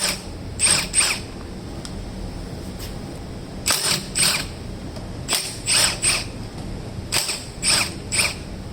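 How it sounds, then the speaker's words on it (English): 10mm socket ratchet clicking in short rapid bursts while loosening Honda Ruckus scooter tail light bolts, several close, crisp runs of pawl ticks separated by brief pauses. "I'm going to need a 10mm socket to remove this tail light assembly."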